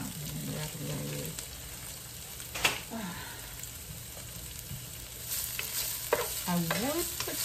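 Black onions sizzling in a pan, a steady crackling fry close by with scraping stirring strokes and occasional clatter, while someone talks intermittently over the cooking.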